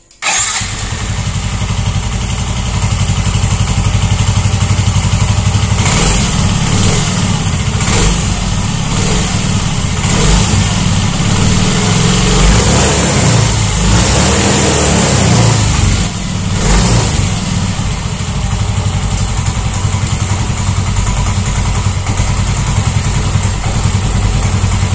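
A Yamaha Mio M3 scooter engine fires up with a sharp start, then idles steadily and loudly up close, with a few brief revs breaking the even running throughout.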